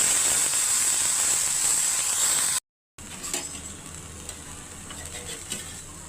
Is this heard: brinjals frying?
yes